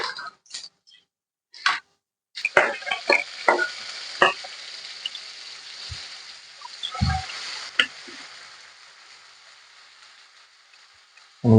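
Cumin and mustard seeds crackle in hot oil for a curry of dried lentil dumplings. A few sharp pops give way to a steady, close sizzle dotted with crisp spits and light clicks.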